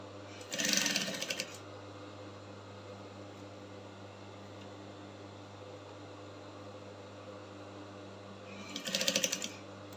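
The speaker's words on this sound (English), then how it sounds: "I'll keep lifting, and I'll be sewing" Sewing machine stitching overlapped fabric for a deep illusion yoke on a bustier, two short bursts of loud close whirring near the start and end separated by a steady low hum, with no talk.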